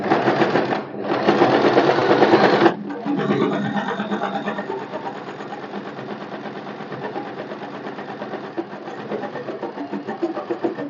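A sewing machine slowly stitches a blouse lining at the neck, its close, rhythmic motor whirr and needle chatter pausing briefly twice before settling into a steady, slightly quieter run.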